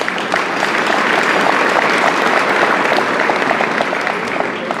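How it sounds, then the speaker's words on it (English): A large audience at a Lions Club International convention in Las Vegas applauds, a dense, even wash of many hands clapping that holds steady for several seconds without pause. "I think you deserve a round of applause."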